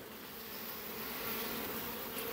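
Honeybees from a spring swarm colony, now in production, buzz steadily at an opened hive during a frame inspection, a dense, continuous drone close by with no pauses and no voices.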